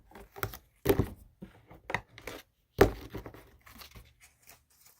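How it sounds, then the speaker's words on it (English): A deck of tarot cards being cut and handled, with scattered soft papery shuffles and taps and two sharp snapping slaps of cards, close and alone without talk. "I'm going to cut the deck and then pull from the top"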